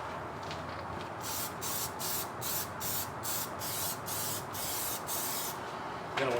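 Plasti Dip sprayed from an aerosol can onto a C5 Corvette rear diffuser, heard as a series of about ten short, even hissing bursts with brief gaps between them, close and fairly quiet.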